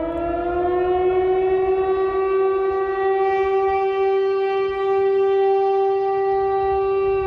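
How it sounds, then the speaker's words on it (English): A civil-defense-style siren opening a composed show soundtrack, one loud sustained wailing tone that rises slowly and holds steady, rich in harmonics, with no voices. "I was noticing all the tones that was in the siren"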